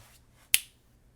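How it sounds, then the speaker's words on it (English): One crisp, loud finger snap, sharp and close, rising out of near silence and fading quickly. "That was the most solid snap I've ever done in my entire life"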